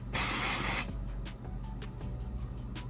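IGK First Class charcoal detox dry shampoo sprayed onto hair at a center part: one loud, close aerosol hiss lasting under a second, followed by quieter rustling and faint handling noises.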